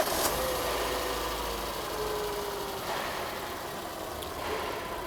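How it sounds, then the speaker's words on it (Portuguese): A car engine, started during an alternator check with a voltmeter on the battery, runs at a steady idle, a continuous low rumble with faint clicks near the beginning. "Vamos ligar o motor então."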